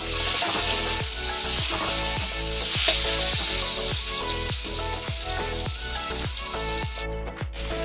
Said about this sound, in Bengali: আর কিছুটা পেঁয়াজ দেব। দিয়ে ভেজে নেব।